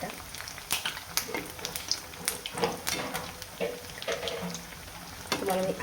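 Sabudana vada frying in hot oil and being flipped, a steady crackling sizzle with scattered pops and spatula scrapes, close and moderately loud.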